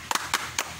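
Hand claps in a kindergarten clap chant: a quick double clap followed by two single claps, close and crisp, alone without talk.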